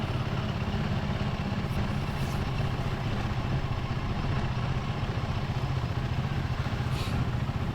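A motorcycle riding over damp, muddy soil gives a continuous close engine drone with rattly mechanical clatter, steady and unbroken the whole time.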